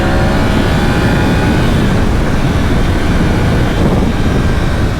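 A Yamaha R1 sport motorcycle engine roars loudly and continuously, a dense sustained rumble close to the microphone with no speech.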